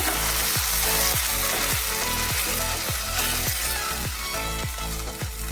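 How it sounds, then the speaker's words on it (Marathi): Ground masala paste for veg kurma sautés in a hot pan, a loud dense sizzle with rhythmic stirring strokes repeating about every half second, close and continuous. "वाटण आता हे आपल्याला परतून घ्यायचं चांगलं"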